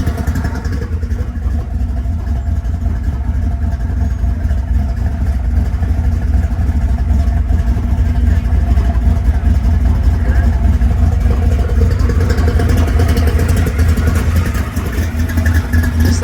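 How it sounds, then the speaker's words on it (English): A Ford Bronco with a 427 stroker V8 idles close by, a loud, continuous rumble with a choppy lope, while people talk over it. "That idle's real nice and just the right amount of chop."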